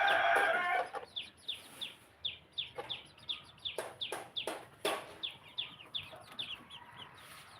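Garden chickens cluck in a steady run of short, repeated calls, fairly near and moderately loud, with a brief louder burst of noise at the start and no talking.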